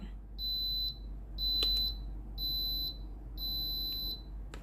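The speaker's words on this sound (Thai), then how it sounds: "ให้กดปุ่มนะครับผม ตรงไฟสีส้มนะครับ สองวินาทีนะครับผม ค้างไว้นะครับ จะได้ยินเสียงดังปี๊ดยาวนะครับ" Four long, high-pitched electronic beeps from a Philips GC6720 steam iron, triggered by holding the orange-light button to start descaling, sound in an even rhythm, separated by short pauses, over a quiet low hum.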